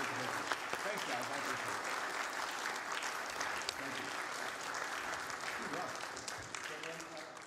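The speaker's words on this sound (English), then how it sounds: "let's have another round of applause" Steady applause from an audience after a talk by an author and professor, continuous clapping with crowd murmur and voices mixed in, moderately distant.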